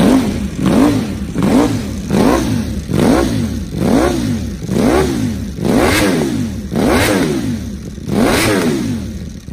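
A Ducati Panigale V4R motorcycle engine revs repeatedly toward its 16,000 RPM ceiling, about eight sharp rising-and-falling blips in steady rhythm, loud and close with no talking.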